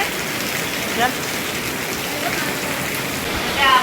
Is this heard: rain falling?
yes